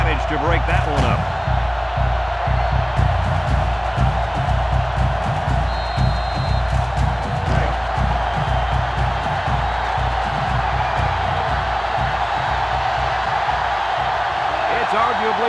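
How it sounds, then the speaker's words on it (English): Roaring stadium crowd in the college football video game NCAA 05, at Alabama against LSU, a loud steady wall of cheering throughout with a commentator talking over it. "It's arguably the loudest crowd in the nation, and they are turning it up a notch"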